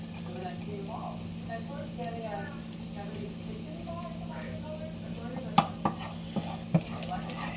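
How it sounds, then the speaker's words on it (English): Garlic sizzling in a pan of portobello Alfredo, a steady soft hiss with brief spoon scrapes and clicks near the end, while someone talks. "So I'm going to put some garlic in there."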